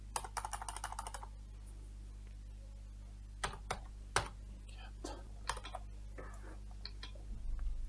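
Bursts of quick typing on a computer keyboard while entering code in Excel, close and fairly quiet over a steady electrical hum, then scattered single key presses.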